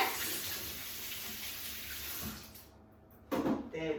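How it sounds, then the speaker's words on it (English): Hands rinsed under a running kitchen tap while baking courgette and carrot muffins, a steady broadband rush of water that cuts off briefly near the end, then splashes again as the flow resumes. "Give my hands a quick wash from those"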